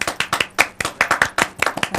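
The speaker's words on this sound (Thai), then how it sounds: "ปรบมือปรบมือ" Quick bursts of hand clapping at a Thai variety talk show, a rapid irregular patter of close, crisp claps lasting a couple of seconds.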